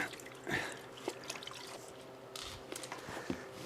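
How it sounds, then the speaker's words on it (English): Water drips and trickles from a wet coyote hide as it is wrung out, with soft, uneven splashes and dribbles at close range under a quiet background. "I'm just wringing out a lot of this water."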